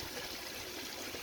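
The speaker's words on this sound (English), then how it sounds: "Right, top the water up." Water poured into a fish tank, a soft steady trickling stream heard close and faint, continuous and alone with no talk.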